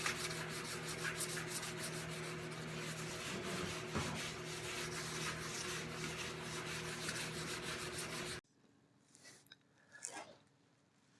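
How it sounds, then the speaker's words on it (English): Car paint is wet sanded with 2000 grit paper between coats, a steady close rubbing and scraping for about eight seconds that then stops, leaving near silence with a few faint handling noises. "I'm using right now a 2000 grit paper to smooth the paint up before the fourth coat."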